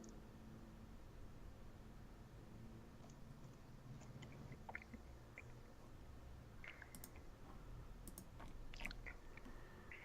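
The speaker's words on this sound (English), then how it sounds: "I can totally hear you chewing" Someone chews orange slices during a tabletop game session, faint soft crunching and wet mouth clicks scattered irregularly over a low steady background hiss, quiet and close to the microphone.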